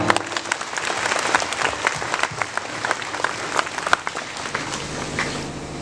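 Steady applause fills a church during a priestly ordination service at St. Dolorosa Church, a dense continuous clapping from the congregation lasting several seconds without a break.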